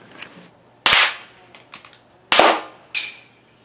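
Non-lethal ammunition rounds striking a target, three sharp cracking reports with a noisy tail, spaced about a second or so apart and fairly close, with faint clicks and handling noise between them.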